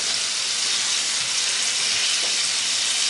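Fish fries in a pan until golden, giving a constant loud, dense sizzle and hiss with no pauses, close up and alone.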